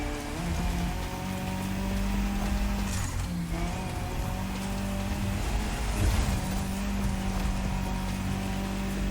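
A Citroen C3 rally car tuned with pro settings accelerates off-road in The Crew Motorfest, its engine droning steadily and climbing through gear shifts, loud and continuous with a gritty, rain-like hiss of gravel.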